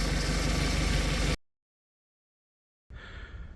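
A Peugeot 206 GTI engine idles with a steady rumble while warming up, then cuts to silence for over a second before a quieter, rougher running sound returns.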